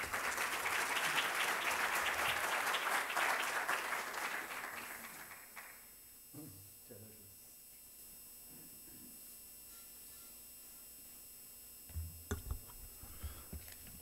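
An audience at a Civil Code seminar honoring Felipe Osterling breaks into loud sustained clapping that fades out after about five seconds, leaving a quiet room with a few scattered bumps and shuffles.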